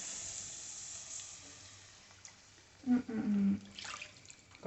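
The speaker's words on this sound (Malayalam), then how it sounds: "വെള്ളം ഒഴിക്കുക കേട്ടോ, കുറച്ചുകൂടെ ഒഴിക്കാനുണ്ട്." Water poured into a cooking pot, a short burst of splashing and gurgling in the middle after a quiet hissing stretch, close by in a home kitchen.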